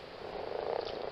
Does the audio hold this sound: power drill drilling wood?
no